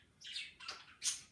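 A pet bird chirps three quick, bright, high calls in a row, close but fairly soft, with nothing else audible.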